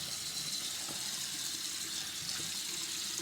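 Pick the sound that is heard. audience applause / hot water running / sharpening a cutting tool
hot water running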